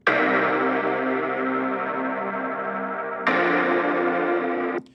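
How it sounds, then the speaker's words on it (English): Heavily distorted, buzzy sustained chords ring out, harsh and saturated, with an abrupt change to a brighter chord near the end before cutting off. "Let's listen to that distortion. It's quite extreme."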